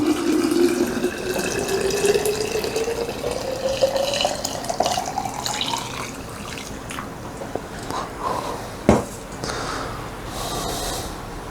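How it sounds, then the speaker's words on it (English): Hot plant-based herbal tea is poured into a two-quart glass mason jar, a steady liquid stream rising in pitch as the jar fills, then stopping, followed by a brief knock and quiet dripping. "hot tea, because this is still really hot, into the mason jar, which this is 2 quarts"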